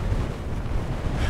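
Strong headwind buffeting the microphone during a road bicycle ride, a dense, loud, continuous roar of gusting air with no voices.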